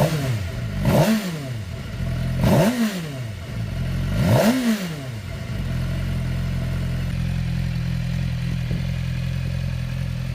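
A Suzuki GSX-R600 sport motorcycle engine, K8 to L0 generation, close by: three sharp throttle blips rise and fall in quick succession, then it settles into a steady, rumbling idle with no voices.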